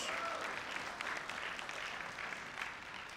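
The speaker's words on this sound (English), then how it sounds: "How about a round of applause for Justin?" A graduation ceremony audience applauds Justin in a continuous, even wash of clapping that holds throughout and eases slightly toward the end, heard at a moderate distance.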